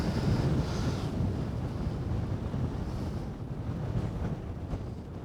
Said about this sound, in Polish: Zobaczcie, jak pięknie wiatr wieje.